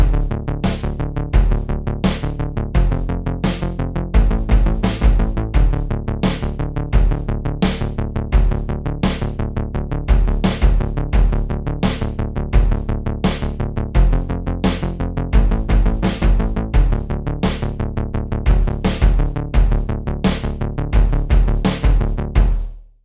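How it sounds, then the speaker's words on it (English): A Nord Drum 3P plays a bass sound in a simple jazzy hybrid groove alongside acoustic drums, with steady, punchy low notes and crisp rhythmic hits driving evenly throughout, loud and close. "And now I play a simple groove with the right hand on the Nord drum instead of the hi-hat."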